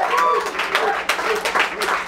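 A burst of audience applause at a live music set at The Hideout, many hands clapping together in a dense, steady patter that rises and dips briefly.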